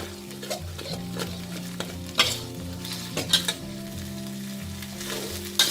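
Curry paste loosened with a little water and stir-fried in a pan for a Thai pork-rib curry, a close, continuous sizzle with a few loud scraping strokes and utensil knocks, no voices.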